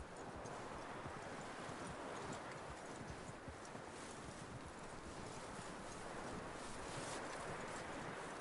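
Horse hooves clip-clop in a steady, continuous rhythm over constant wind-like noise in the video game Red Dead Redemption 2, with no one speaking.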